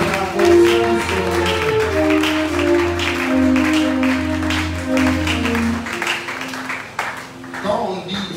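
A church congregation claps along over loud sustained music, with voices and a steady stream of applause running beneath the sound for most of the stretch before it thins near the end.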